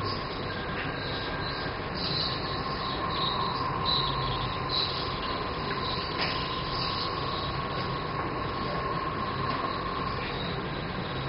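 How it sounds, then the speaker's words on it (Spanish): Steady high-pitched chirping of crickets, electronic and synthetic in tone, continuous throughout over a dense droning background. "Unos grillos agudos, eso decíamos, eso es sintetizar."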